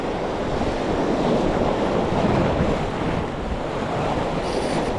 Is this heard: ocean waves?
yes